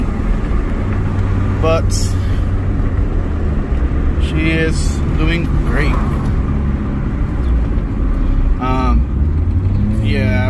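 An Acura NSX engine runs smoothly while driving, a steady low rumble with road noise underneath a person talking intermittently throughout.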